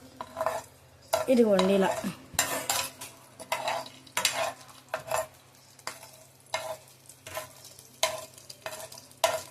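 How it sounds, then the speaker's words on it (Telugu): A ladle stirs and scrapes food frying in a pan, making repeated scraping strokes over a soft sizzle. A voice speaks briefly near the start. "ఇలా వేగించుకుంటూ ఉండాలి కావాల్సినంత"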